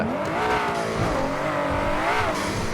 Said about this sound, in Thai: เสียงท่อก็เท่